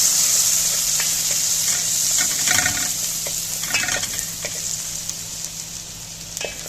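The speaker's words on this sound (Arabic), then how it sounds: "انا هحط زبده او سمنه او اي حاجه، نحط توم، نديله تقليبتين" Garlic sizzles in butter or ghee in a pan while being stirred for a fatta sauce, a steady close frying hiss with a couple of brief scraping stirs partway through.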